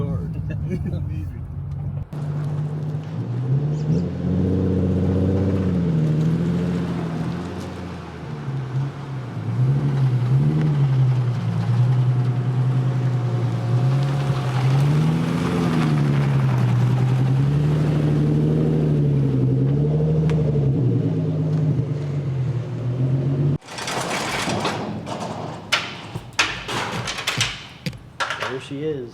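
A Nissan 350Z with a swapped VHR V6 engine drones at steady speed, its note rising and falling as the throttle shifts, then cuts to clattering bumps and knocks near the end while people talk throughout.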